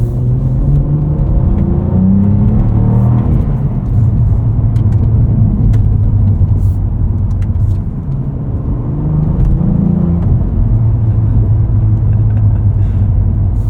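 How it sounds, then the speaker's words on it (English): A 2024 Cadillac CT4-V Blackwing with a six-speed manual, on all-season tires, drives with a loud, deep engine drone and rumbling exhaust burbles. The drone dips briefly once before picking back up. "You gotta love all the exhaust burbles."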